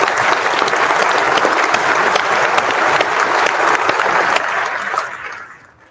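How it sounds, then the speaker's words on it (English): A large keynote audience at a Las Vegas tech conference gives loud, sustained applause for the event sponsors, which fades out over the final second. "If we could give a round of applause for all of our sponsors"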